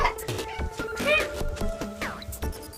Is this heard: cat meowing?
yes